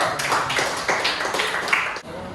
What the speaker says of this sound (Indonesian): Oke, tepuk tangan buat kelompok 1.